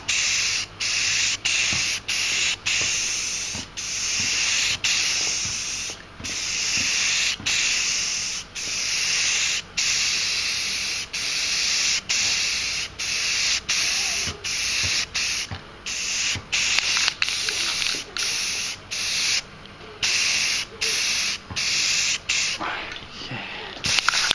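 Short hissing bursts of aerosol clear coat spray onto a Magneto cosplay helmet, repeated in quick rhythmic passes with brief gaps between them, close and fairly loud throughout.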